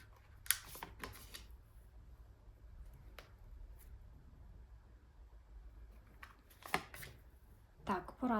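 Crisp bursts of card shuffling and the snap of cards being laid down, with quiet pauses in between.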